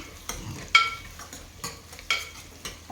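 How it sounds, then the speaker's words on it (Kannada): Onions and fenugreek sauté in oil with a soft, low sizzle, broken by a few sharp scrapes and clinks as a spoon stirs the pan. It sounds close and fairly quiet, with no talking. "ಎಣ್ಣೆ ಹಾಕಿ ಬಾಡಿಸ್ಕೊಬೇಕು. ಈ ಥರ ಚೆನ್ನಾಗಿ ಈ ಥರ ಬಾಡಿಸ್ಕೊಬೇಕು"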